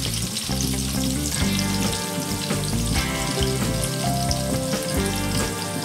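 Chillies sizzle and crackle in hot oil in a pan, a loud, continuous frying hiss with occasional stirring sounds.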